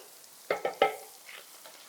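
Chicken liver being stirred in a pan: three quick scraping strokes close together, over a faint, steady sizzle.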